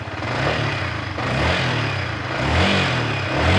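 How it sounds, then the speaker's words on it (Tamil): A TVS Ronin 225 or Yamaha XSR 155 motorcycle engine runs steadily and rises into gentle revs, its low rumble continuous and close throughout. "லைட்டாக ஆன் பண்ணி ரப் பண்ணி பாருப்பா."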